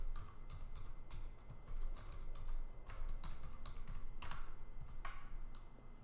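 Keys clatter on a computer keyboard as a name is typed in, with a steady run of light, quiet clicks and taps over a low background hum and no voices.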